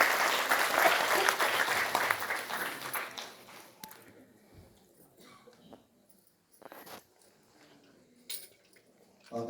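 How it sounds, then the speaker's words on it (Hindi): Loud applause rises from an audience at a Panchayati Raj ministry workshop as a minister is invited to speak, dense clapping for about four seconds that fades into near silence with a few scattered late claps. "जोरदार तालियों से अभिवादन कीजिए।"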